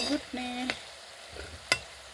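Food frying in hot oil in a home kitchen gives brief sizzling bursts mixed with the clatter of stirring. A couple of sharp, close clicks break up quieter stretches.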